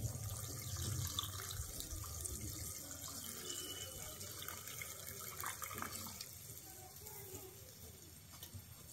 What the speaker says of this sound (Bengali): আমি এখানে আরেকটু জল দিয়ে দিচ্ছি